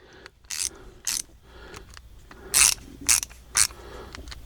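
Fine-action ratcheting screwdriver mechanism clicking in bursts, several short crisp ratchet runs separated by pauses, close and clear with no talk.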